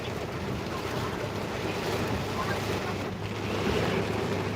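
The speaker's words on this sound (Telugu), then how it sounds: "చూడండి వాటర్ ఎలా పడుతున్నాయి" Heavy rain pours down outdoors during a storm on a street, a dense, continuous roaring wash of falling water with a low rumbling undertone, steady and loud with no talk.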